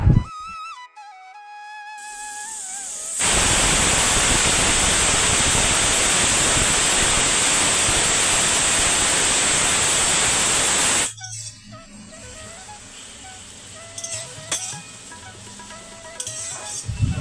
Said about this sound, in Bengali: আমাদের চিকেনের জন্য পেঁয়াজটা ভেজে নিচ্ছিলাম